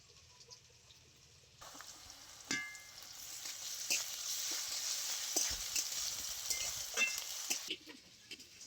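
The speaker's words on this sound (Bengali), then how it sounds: "পেঁয়াজ রসুন খুব ভালো করে লাল লাল করে ভেজে নিয়েছি" Onion and garlic frying in a pan, with a soft, steady sizzle that swells after a quiet start, plus occasional faint clinks and stirring noises close by.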